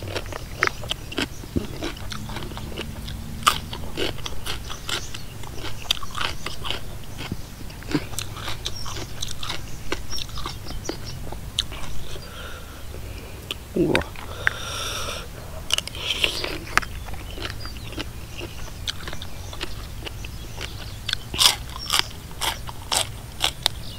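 Loud, close crunching and chewing of spicy Thai mixed-seafood chicken feet salad, eaten outdoors in a rice field, with sharp irregular crunches and wet bites continuing throughout.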